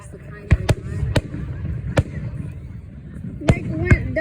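Fireworks burst during a firework show, with sharp explosive bangs at irregular intervals over a crackling, rumbling background, some close and loud, while people talk nearby.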